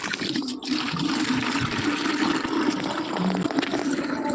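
Water from a tap pours steadily into a bucket, a continuous rushing, trickling fill heard close up and alone, with a faint domestic background hum throughout.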